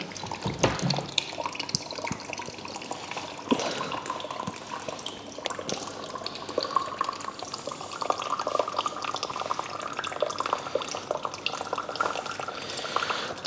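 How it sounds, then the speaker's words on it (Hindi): Water flows steadily out of a coconut vending cart machine in a continuous splashing, trickling stream with faint drips, heard close and without voices. "देख सकते हो आप अभी पानी निकल रहा है"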